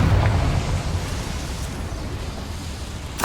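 A Confringo fire spell blasts in Hogwarts Legacy, with a burst up front that settles into a steady rushing roar and another sharp hit right at the end.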